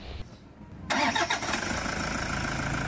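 After a quiet moment, a car engine cranks and fires abruptly, then settles into a steady idle nearby.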